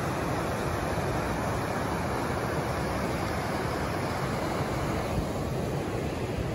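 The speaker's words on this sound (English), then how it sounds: "Man, this is one beautiful river." The Rogue River in Southern Oregon rushes past near a waterfall, a loud, continuous broadband roar of forceful water with no voices.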